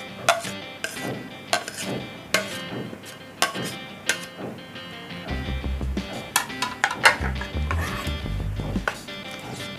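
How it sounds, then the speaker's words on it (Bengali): Spoon scraping and clinking against a bowl while chopped cucumber is mixed into yogurt for Bengali-style raita, with repeated irregular knocks and stirring clatter close by. "শশাটা মিক্স করে নিচ্ছি দইয়ের সঙ্গে।"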